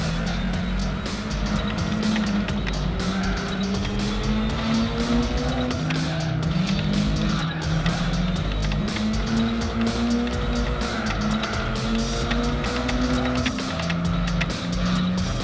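Race cars in Gran Turismo 4, played on a PS2 emulator, roaring continuously with engines rising and falling through gear changes, loud and steady throughout.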